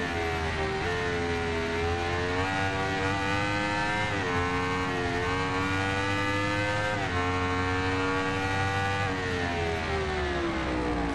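A 2014 Aprilia RSV4 1000 APRC ABS superbike in the racing game Ride 2 drones loudly and continuously, its engine note rising through the gears with brief dips at each shift and no talk.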